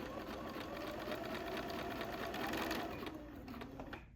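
A sewing machine runs steadily at close range, its rapid mechanical stitching hum continuous for several seconds before slowing near the end.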